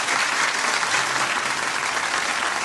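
A studio audience on a television talk show applauds loudly and continuously, a dense clapping that holds at an even level throughout.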